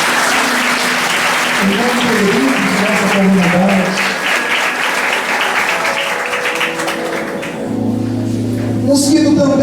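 A church congregation bursts into loud, sustained applause that thins toward the end while a preacher speaks over it.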